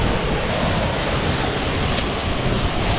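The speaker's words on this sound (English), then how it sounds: "Let's go to the waterfall." Rushing water near a waterfall reached by kayak in Hilo, Hawaii, a dense, steady roar mixed with wind buffeting the microphone, with no voices.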